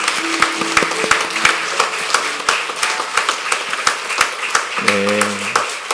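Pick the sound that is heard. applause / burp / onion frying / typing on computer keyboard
applause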